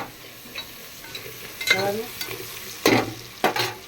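Onions for mutton biryani, fried until crisp, are stirred in a pan, with a soft steady sizzle and a few sharp scraping strokes of the spoon standing out.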